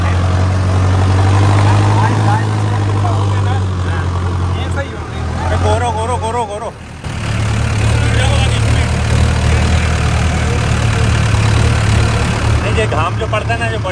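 A Swaraj 735 FE or Mahindra Arjun Novo 4x4 tractor engine drones steadily at close range, a low rumble that briefly drops out partway through, with people talking over it.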